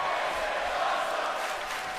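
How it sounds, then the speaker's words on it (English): A wrestling arena crowd in WWE 2K18 chants and roars, a dense, loud, sustained wash of voices filling the whole stretch without a break. "The crowd chanting "This is awesome" because that was indeed fucking awesome"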